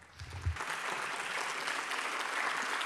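Audience at a public speech on terrorism in Turin breaks into applause, a brief low thump at the start and then sustained, loud, dense clapping that carries on steadily throughout.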